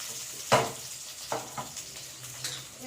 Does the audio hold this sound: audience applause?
no